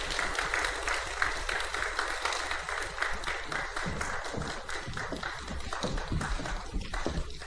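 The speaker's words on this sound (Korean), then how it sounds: "박수로 환영해 주시기 바랍니다." Quiet audience applause welcoming guests to an art and faith talk at a church event, steady soft clapping from a small crowd that runs throughout without a break.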